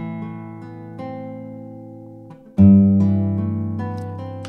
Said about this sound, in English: Here in Cakewalk, I've got this virtual acoustic guitar which currently sounds like this.